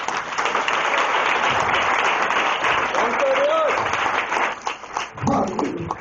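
A congregation claps loudly and steadily through the whole stretch, with voices shouting and a dog whimpering or yelping briefly in the middle of the applause.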